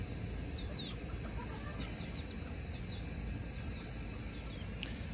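Free-range chickens eating scraps, with soft scattered clucks and small bird calls over a steady low rumble of outdoor background noise.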